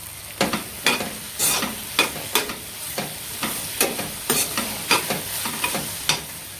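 Tomatoes cooking in oil in a pan for a spicy dry black-eyed bean pod stir-fry, with a steady sizzle and rhythmic spatula strokes scraping the pan, close and fairly loud, no voices.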